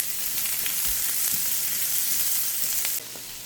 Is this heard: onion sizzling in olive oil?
yes